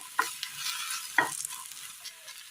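Okra sautéing in a pan to cook off its sliminess, with a steady soft sizzle and two sharp stirring scrapes of a spoon against the pan, close and alone.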